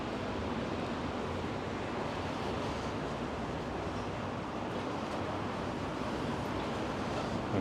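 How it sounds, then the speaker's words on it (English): Blustery wind on a street on Commercial Drive in Vancouver, a steady, loud, broadband roar buffeting the microphone without a break, with no voices. "What a blustery day."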